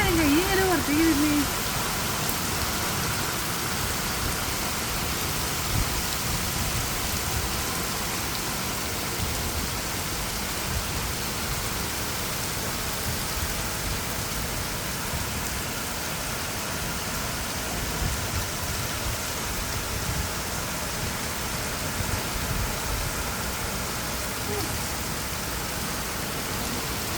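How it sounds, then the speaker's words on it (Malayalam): Heavy rain pours down steadily in the UAE, a dense continuous hiss of drops on surfaces that stays loud throughout; no distinct thunderclap stands out, and a voice is briefly heard near the start. "നല്ല മഴ കൂടി കൂടി വരികയല്ലേ. ഇടിമിന്നലാണ് ഈ നേരെ പുറത്തേക്ക് വരുന്നേ."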